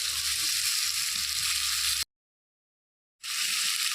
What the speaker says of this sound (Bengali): সামান্য নুন হলুদ দিয়ে আলুটাকে ভেজে নিতে হবে